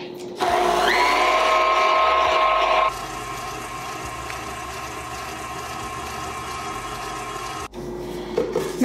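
An electric mixer creaming white sugar and butter for a spiced pineapple upside-down cake whirs with a loud, high motor whine, then drops to a steadier, lower hum that runs for several seconds before cutting out.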